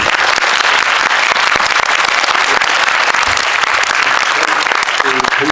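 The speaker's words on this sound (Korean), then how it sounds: "한번 또 크게 한번 박수 한번 보내주시죠" Cinema audience in a large screening hall at a special guest event, clapping loudly and continuously as a dense wash of applause that holds at full strength from start to finish.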